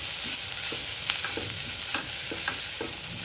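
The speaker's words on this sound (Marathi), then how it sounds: "तर मीठ टाकून ही भाजी आणखीन आपल्याला परतून घ्यायची।" Cooked mashed potato bhaji for masala dosa, salted and sautéed in a pan, with a steady low sizzle and regular spatula scrapes and stirs roughly every half second, close by and without talk.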